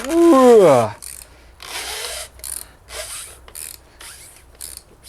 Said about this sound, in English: The next we need to take off the top bit, which is a 24mm socket. And what we want to do is we want to just undo it.